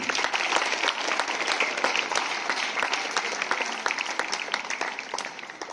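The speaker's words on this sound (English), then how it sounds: "So they deserve our great applause and big hands once again." A hall full of students and staff at a school morning assembly claps steadily and loudly, a sustained wash of hands that eases slightly toward the end.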